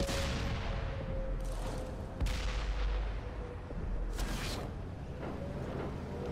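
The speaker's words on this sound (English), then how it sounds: "So now we just got tanks shooting from over there towards us." Tank cannon shots in World of Tanks, several booming reports spaced a second or two apart, some sharp and near, others more distant, over a steady engine drone.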